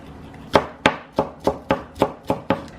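A knife chops tomatoes into small pieces on a board, eight crisp evenly spaced cuts in a steady rhythm, close and clear with no talking.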